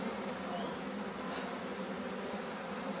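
Honey bees drone around a hive in a dense, continuous buzz, close and even in level throughout without any voices.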